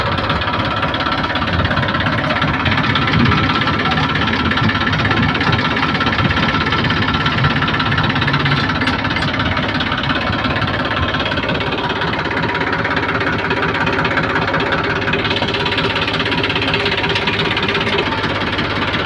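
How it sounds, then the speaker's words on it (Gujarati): A small tractor engine idles nearby with a steady, rough mechanical chug and knocking rumble that holds constant throughout, with no voices. "જો આ ત્રીજું ટ્રેક્ટર મિની ટ્રેક્ટર"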